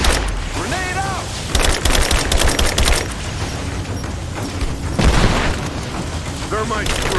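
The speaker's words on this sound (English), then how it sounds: "Grenade out." Grenade blasts and bursts of gunfire in the Rise of the Tomb Raider video game, loud sharp booms and rattling volleys recurring across the scene, with voices talking in between.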